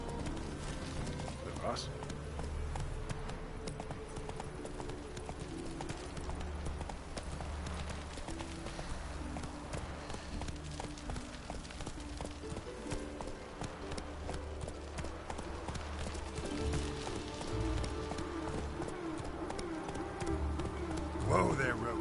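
Hooves of Geralt's horse Roach clip-clop steadily in The Witcher, a rhythmic trotting pattern close by under ambient game sounds, with someone speaking Spanish over it.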